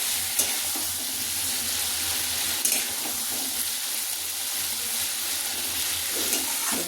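Spice masala fries in a pan, a dense even sizzle that holds loud and close throughout, broken by a few faint scrapes or clinks. No one speaks.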